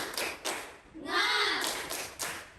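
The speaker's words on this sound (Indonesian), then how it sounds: "Tepuk semangat dulu ya" A school class does a rhythmic clapping chant, a few sharp group claps spaced out, with children's voices chanting in between, fairly faint.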